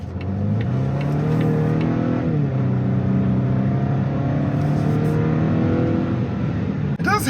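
A 2022 Volvo XC60 SUV makes a quick, tight turn. Its engine gives a steady interior drone that rises and dips slightly in pitch through the maneuver, fairly loud and continuous.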